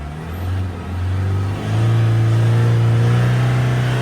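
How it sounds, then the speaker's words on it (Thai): A 2013 Isuzu D-Max 2.5 diesel with manual gearbox revs up to nearly 4000 rpm, its engine note climbing, dipping briefly and then holding a loud, steady drone up close. "เมื่อกี้ผมเร่งไปเกือบสี่พันรอบ"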